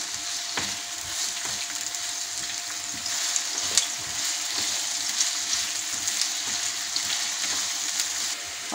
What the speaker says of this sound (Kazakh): Жуамызды бірінші қуырып алайық